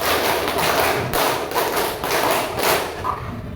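Children in a school classroom clap in unison during a counting clapping game, a run of about six hard, near claps with brief pauses between them and no voices.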